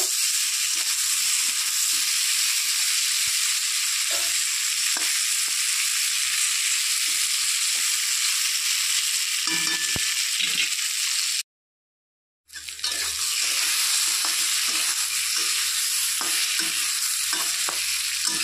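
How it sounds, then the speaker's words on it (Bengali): Pieces of pointed gourd fry in a pan with a steady bright sizzle and occasional stirring scrapes, close and loud, broken by a second of silence before the sizzling resumes as strongly. "পটলগুলো একটু ভেজে নেব"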